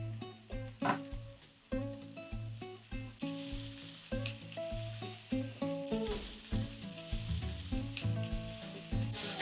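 Frozen peas sizzling in a frying pan with carrots for carbonara, a loud crackling sizzle broken by repeated scraping and stirring clatters, with no speech.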